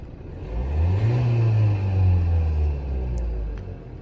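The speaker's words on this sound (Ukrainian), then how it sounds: "Турбіна дує відмінно." A Renault Kadjar 1.5 turbo diesel engine revs up and holds a deep, steady drone for a couple of seconds, then eases back down, close and fairly loud with no talking.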